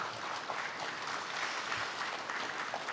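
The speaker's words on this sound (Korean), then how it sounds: "다시 한번 박수 부탁드립니다" Steady applause from a crowd at a national March 1st Independence Movement Day ceremony fills the whole clip, soft and distant, with no voices over it.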